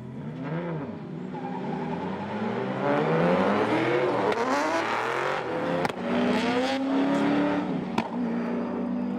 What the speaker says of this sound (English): Both drivers are passing the finish line.